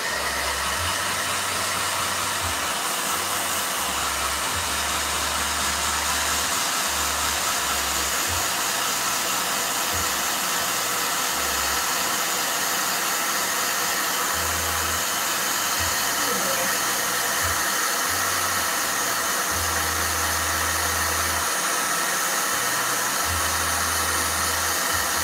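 A handheld blow dryer runs continuously while drying hair, giving a loud, steady whooshing roar close by, with intermittent low rumbling pulses underneath.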